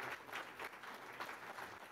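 Applause at a hybrid group meeting plenary: steady, soft clapping from a group heard at a distance, continuous and fairly faint throughout.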